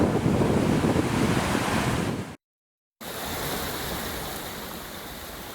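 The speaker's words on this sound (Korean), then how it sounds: "눈 사이로 하얀 물들이 수없이 우렁차게 떨어지지 않습니까?" A winter waterfall at Dry Creek Falls pours heavily amid falling snow, a dense continuous roar with wind buffeting the microphone, cut by a brief silent gap before resuming.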